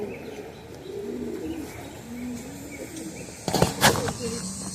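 Homing pigeons in a loft coo softly and repeatedly up close, then a sudden burst of flapping wings as birds take off near the end.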